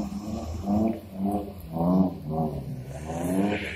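Taxi car drifting on a snowy parking lot, its engine revving in repeated surges, rising and falling about every half second, loud and close with no talking.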